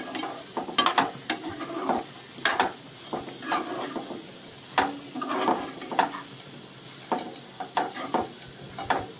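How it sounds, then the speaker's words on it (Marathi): Pointed gourd and potato with plenty of grated fresh coconut stir-fry in an uncovered pan, a steady sizzle broken by repeated scraping strokes of a spatula against the pan, close and fairly loud. "आता पुन्हा एकदा परतून घ्यायची आणि आता झाकण न ठेवता आता ही खडखडीत करून घ्यायची सुक्की"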